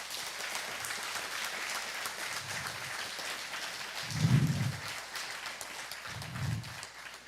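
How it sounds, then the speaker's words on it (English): Applause from mourners at a celebration of life honoring a retired Army sergeant first class, a steady, moderate patter of clapping spread through the room at even loudness with no voices over it. "Please give Ray a round of applause."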